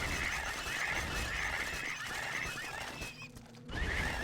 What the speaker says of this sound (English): The pig noise, on the other hand, I guess it is louder.